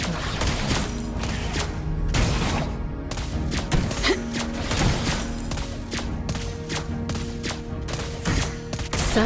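Rapid bursts of gunfire crack repeatedly in quick succession, loud and close, with irregular rhythm like a continuous firefight.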